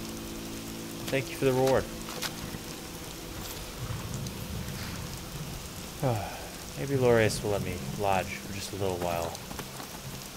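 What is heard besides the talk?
rain in the video game Avowed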